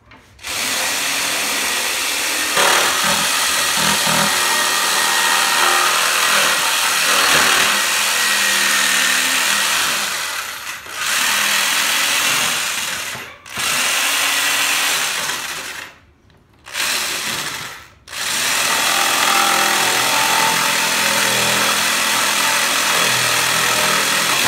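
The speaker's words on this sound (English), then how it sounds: "You're going to do that by cutting this bottom section of your crate off to create a small top section for your box." Loud, continuous whine of a power tool cutting through the bottom section of a plastic crate, running steadily for long stretches and stopping briefly a few times before resuming.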